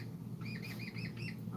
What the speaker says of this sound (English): Let me get these parrots off.